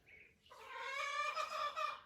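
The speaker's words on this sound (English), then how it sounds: "That chicken is being so loud." A chicken clucks loudly nearby. After a brief soft call, a sustained, strained run of squawking starts about halfway through the first second and carries on to the end without speech.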